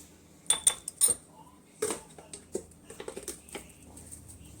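A utensil clinks and taps against a bowl while masala fish fry marinade is stirred to mix the spices, giving a few sharp metallic knocks followed by softer, quicker scraping taps.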